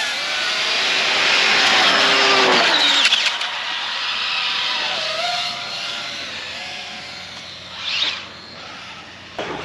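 Arrma Kraton 8S RC cars scream past in a drag race, a loud high-pitched electric motor whine that swells, peaks and fades as they pass, with a brief later burst and outdoor wind noise.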